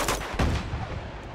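A couple of sharp gunshots ring out in a firefight in the video game Uncharted 2, loud and close, with a short decaying tail after each crack. No speech.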